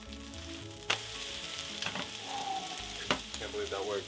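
A seafood pancake (haemul pajeon) sizzles and crackles in a frying pan, broken by a couple of sharp knocks and scrapes as a small spatula lifts and flips it.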